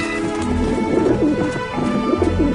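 Pigeons in a PS4 video game coo in a soft, repeated, bubbling rhythm over a constant patter like rain, fairly close and with no one talking.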